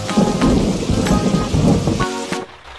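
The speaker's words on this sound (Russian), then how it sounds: "Ой, уже 3 дня дождь идет, даже на улицу не выйти" Steady heavy rain pours down with a deep rumble of thunder rolling underneath, loud and close, ending abruptly.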